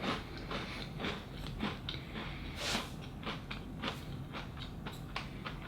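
Crunchy CBL Munchee Coconut Magic biscuits are bitten and chewed up close, giving a quiet series of crisp cracking crunches in an irregular rhythm, with no talking.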